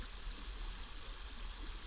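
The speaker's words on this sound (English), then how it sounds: "From a small mountain stream like this" A small mountain stream flows with a soft, steady rushing and gurgling that stays faint and even throughout, heard alone without any talking.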